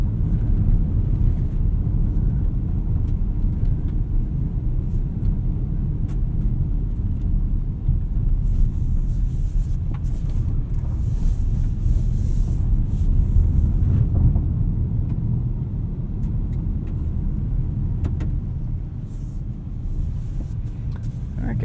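A 2020 Mitsubishi Outlander Sport 2.4 GT with AWD set to auto, driving on a dirt road, heard as a continuous loud low rumble of road and tire noise with engine drone, steady throughout.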